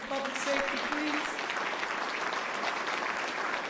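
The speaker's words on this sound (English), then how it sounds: "Give that a round of applause for public safety, please." Steady audience applause at a mayoral press event in Philadelphia, a dense wash of clapping heard from a moderate distance, with a few voices faintly audible at the start.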